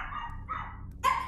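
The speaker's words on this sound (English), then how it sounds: "My dogs are scared too. You hear them barking?" Pet dogs bark in a room during a horror game session, two or three short yelps in quick succession, moderately loud and heard alone without talk.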